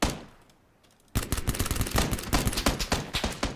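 Rapid automatic gunfire in a shooter video game erupts after a brief fading shot, a dense loud burst of cracks continuing steadily to the end.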